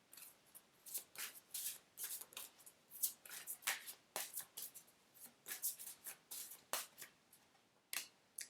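A deck of cards is shuffled by hand, a close, quiet series of rapid riffling bursts in an irregular rhythm with brief pauses between them.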